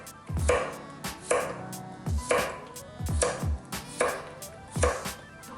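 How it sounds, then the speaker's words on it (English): A knife slices cucumber on the bias against a cutting board, landing in a steady run of about six firm, close thunks spaced under a second apart, with no talking. "We're going to cut up some cucumber. I'm going to cut them on a bias."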